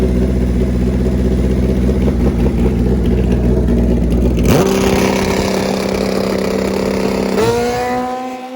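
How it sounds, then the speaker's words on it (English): An old-school Kawasaki KZ drag motorcycle, a former pro stock bike, revs loudly up close: a rough high-revving roar drops sharply into a steadier idle, then blips once more near the end. "the former national champion, Don DePeel, on a motorcycle that used to be a pro stock bike way back when"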